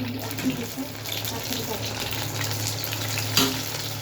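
Pakoras frying in hot oil, a steady soft sizzle under a constant low hum, with a faint clink of a utensil near the end.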